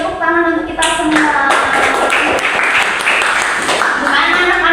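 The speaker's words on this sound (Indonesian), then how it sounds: "Tepuk tangan untuk kita semua." Classroom of students clapping hands together during a microteaching lesson, loud close rapid clapping throughout, with a teacher's voice and children's voices talking over it.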